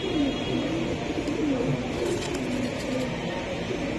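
Racing pigeons at a market coo in a low, continuous murmur, several birds overlapping close by with a faint background of activity.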